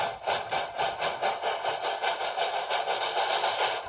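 A model Shay steam locomotive running on a TCS WOW sound decoder chuffs in a steady, rapid rhythm, with a constant mechanical hum and a faint clank now and then, heard alone at moderate level.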